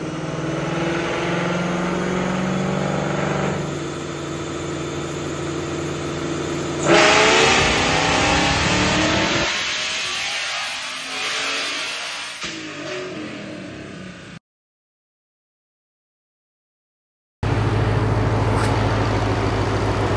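Whipple-supercharged Ford Mustang S650 engine on a dyno roars through hard, loud revving pulls with supercharger whine, climbing sharply before the throttle drops. The engine cuts to silence for a few seconds, then comes back loud and steady.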